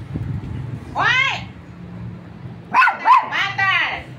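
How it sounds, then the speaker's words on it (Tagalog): A pet dog barks near a home in the Philippines, giving a single yelping bark, then a quick burst of three or four sharp, high barks after a pause, with low background noise underneath. "Labas yung aso."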